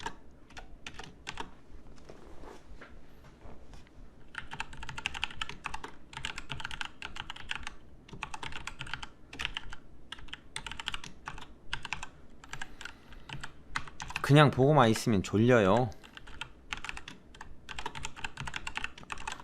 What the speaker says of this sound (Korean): 타이핑이 좀 빠르게 느껴질 수 있는데